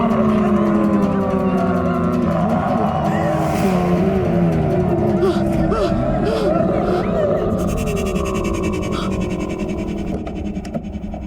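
A car engine revs hard and roars as the vehicle pulls away, loud and sustained for several seconds, with excited voices and commotion layered over it before it begins to fade.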